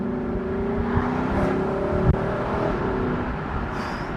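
Lexus LC 500 convertible with a 5-litre V8 accelerating on an A road, a steady engine drone heard from inside the car, moderately loud and even, with a brief click midway.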